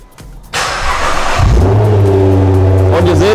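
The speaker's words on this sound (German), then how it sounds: "Und ihr seht, Auto springt wieder an." A Nissan GT-R R35 engine cranks and fires up, settling into a loud, steady idle with a strong low rumble after a short burst of noise, heard close by.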